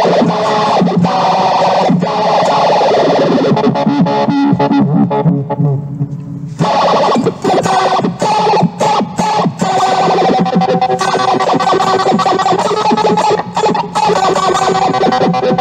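Heavily distorted electronic tones from a Zoom G2 multi-effects pedal, its resonance driven by a Mike Rucci CV step sequencer, pulse and shift in rapid stepped patterns, loud and continuous, with a sweeping resonant filter character and a brief drop midway.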